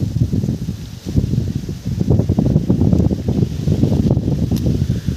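Strong wind high up in a tree roars and buffets loudly, with constant rustling and gusty rumble close to the listener and no voices.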